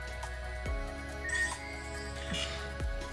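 A Vivo NEX A phone's pop-up front camera plays a Transformers-style mechanical sound effect: faint whirring sweeps and chirpy, tonal servo-like flourishes over a low hum, with a few soft clicks.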